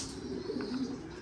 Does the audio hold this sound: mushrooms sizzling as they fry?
no